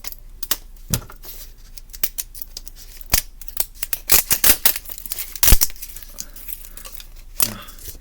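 Recycled plastic blind bag packaging is torn and crinkled open at a zip tab, giving close, irregular snips, crackles and ripping bursts that build to a louder tear midway.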